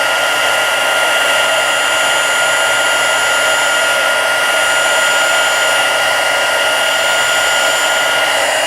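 A heat embossing tool blows hot air steadily over a stamped card, melting embossing powder to a glossy finish; a loud, continuous whooshing hiss runs throughout with no talking.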